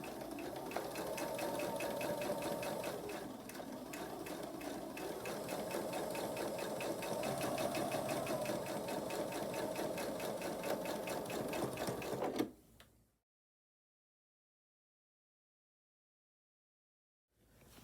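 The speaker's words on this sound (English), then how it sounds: "now I'll sew a scant 1/4 inch seam allowance right down here" A sewing machine runs steadily, stitching a scant quarter-inch seam through quilt patches for a King's Crown block. The motor hum and rapid needle chatter are close and continuous for about twelve seconds, then stop abruptly, leaving silence.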